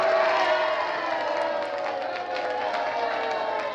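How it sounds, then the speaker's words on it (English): A crowd cheers and shouts continuously in a broad, steady roar, with some voices rising above it at a moderate distance. "Where did this crowd come from, Mr. Commissioner?"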